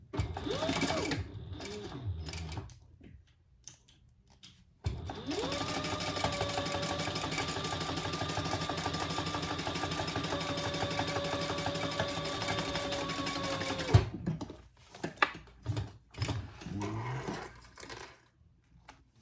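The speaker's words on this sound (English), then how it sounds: "we're going to sew down that side at 1/8 of an inch, all the way down" Sewing machine stitching a 1/8-inch seam down the side of a Magnolia wallet with coin pouch: a loud, steady, continuous whirring run of about nine seconds, framed by quieter handling clicks and rustles before and after.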